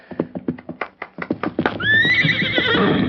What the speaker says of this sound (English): Better leave the horse here so they won't spot me before I see them.